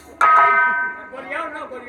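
A single bright bell strike rings out and slowly decays, followed by a voice speaking as the tone fades.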